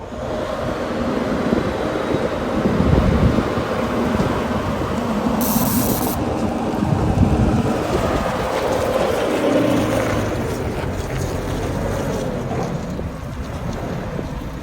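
Steady outdoor wind gusting across a farm field, a broad continuous roar buffeting the microphone throughout with slight swells and no voices.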